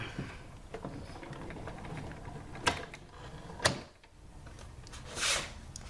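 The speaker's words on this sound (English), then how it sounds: "I'll slide that into the machine, put on the top cutting pad, and then run it through" A die-cutting machine cranks an embossing folder and cutting pad through for a brick wall pattern, giving a steady mechanical grinding and ratcheting hum with a few sharper clacks along the way and no talk.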